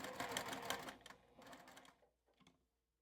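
A sewing machine stitches cotton fabric for a small apple-shaped coaster, whirring in two bursts of rapid needle chatter that slow and stop, with a brief final run near the end.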